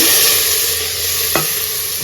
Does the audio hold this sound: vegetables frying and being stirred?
yes